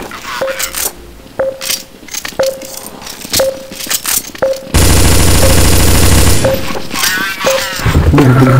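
Automatic gunfire from Counter-Strike Source in the zombie escape mod, with rapid rattling bursts repeating about once a second, then a long dense loud stretch of continuous shooting, with some faint talk underneath.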